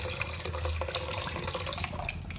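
Dissolved tamarind water goes into a boiling pot of home-cooked food, making a steady, fairly loud splashing, running-liquid sound close by that continues without a break and has no talking over it.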